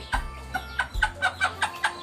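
Chickens and fighting cocks on a farm that raises and breeds gamecocks for sale, clucking in a quick rhythmic series of short calls close by.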